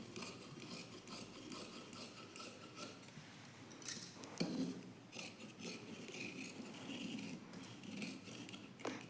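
Scissors cut through plain blouse fabric for a size 38 blouse, giving a close, quiet, continuous rasping and rubbing with a few sharper snips, no talking.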